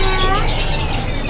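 A short burst of male loper canary chirping at Pramuka bird market, thin high warbles over a dense, noisy market hubbub.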